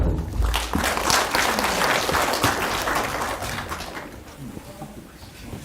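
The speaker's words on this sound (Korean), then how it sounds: "교수님께 큰 박수 부탁드립니다." An audience in a lecture hall claps for a professor after a history seminar talk, a full burst of applause that gradually thins and fades toward the end.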